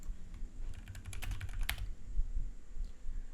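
Typing on a computer keyboard to enter a search, a close, brief run of quick clicking keystrokes with a denser burst in the middle, no talk.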